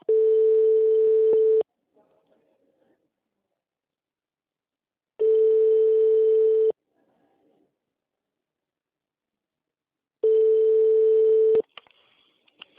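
A telephone line tone plays while a call is being transferred. Three steady, evenly spaced beeps sound, each about one and a half seconds long, with silence between them and faint handling noise.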